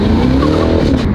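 A Cadillac CT5-V Blackwing revs hard with a dense, loud engine roar, supercharger whine and exhaust rasp filling the whole moment, close and continuous.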